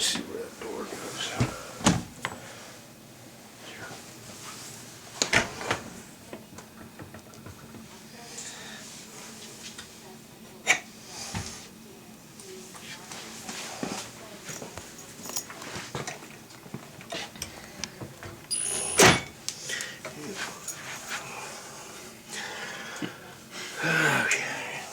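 A dishwasher door being handled and fitted during a replacement job, with scattered knocks, clunks and scrapes spread irregularly through the stretch while someone talks at intervals.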